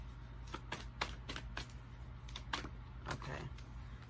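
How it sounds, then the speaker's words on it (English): A deck of tarot cards is shuffled in quick riffles and taps, a run of crisp flutters against a low steady hum. "One more shuffle, one more card"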